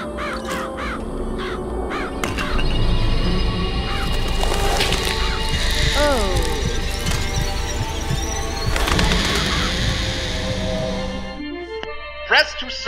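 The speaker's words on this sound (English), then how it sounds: "Summon murderous crows." Cawing crows summoned by the murderous crows vigor in BioShock Infinite, a flurry of harsh caws and flapping over busy game sounds, continuous and fairly loud, with a sharp thud near the end.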